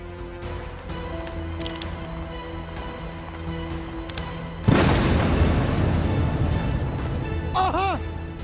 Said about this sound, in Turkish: Aha patladı.